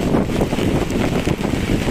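Strong wind gusts through a rainy day outdoors in the Maldives, a steady, dense roar buffeting close to the microphone with no pauses, loud and constant throughout.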